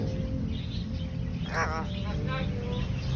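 A talking parrot gives a few short squawking, chirping calls close by against a steady background hum, with people talking around it.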